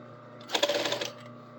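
Serger overlocking a seam on fabric while starting a collar, a short burst of rapid mechanical whirring lasting about half a second, close and moderately loud over a quiet room hum.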